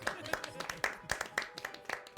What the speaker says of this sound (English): The magistrate's speech is met with applause.